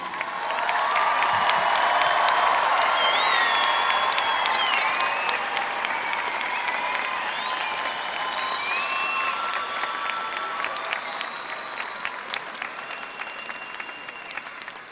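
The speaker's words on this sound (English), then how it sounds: "Let's give a round of applause for the class of 2023." Sustained applause from a large audience at a high school graduation ceremony, loud and continuous throughout with scattered cheers and whoops rising above it, easing slightly toward the end.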